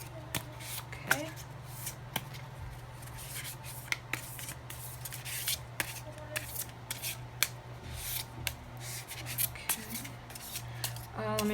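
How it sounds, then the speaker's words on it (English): Tarot cards being shuffled by hand in a steady run of soft riffling flicks and crisp snaps, close and moderately loud over a low constant hum, with no talk. "Let me just shuffle a little more here"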